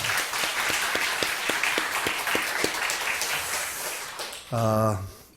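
A church congregation claps in thanks during a Sunday anniversary service, a dense wash of applause with a few distinct claps early on, fading before a short sustained musical tone near the end.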